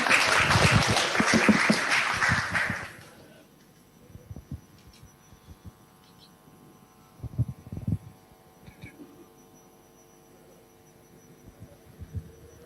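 Audience applause at a press conference for the MHA Open 2020 surfing competition: a loud burst of clapping for about three seconds that stops abruptly, followed by quiet room hum with faint bumps and sparse sounds.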